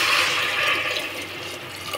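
Water is poured into a pot of potatoes for cooking, making a continuous splashing rush that is strongest at first and eases slightly toward the end.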